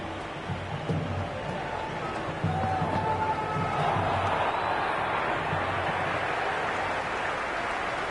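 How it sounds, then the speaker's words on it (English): Stadium crowd in the Cricket 26 video game, a dull continuous roar of spectators rising after a boundary, steady and moderately loud with brief thumps early on. "It's almost palpable, the excitement emanating from this crowd at the moment."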